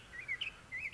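A bird calls at a Gulf Coast of Florida sanctuary, giving thin, rising and falling whistled chirps in two short bursts over faint outdoor background noise.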